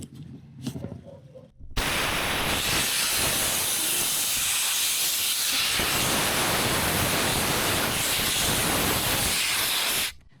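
Air rushes out of an inflatable paddle board through its open valve in Ullapool, Scotland: a loud, steady broadband hiss that starts abruptly after a few faint sounds and runs unbroken for about eight seconds before cutting off.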